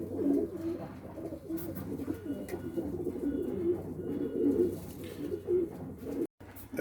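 Arab pigeons coo in a loft, soft low throaty calls rolling on and overlapping close by, with light rustling in the background.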